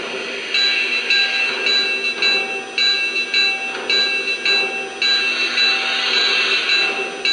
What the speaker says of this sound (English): And let's try a little bell.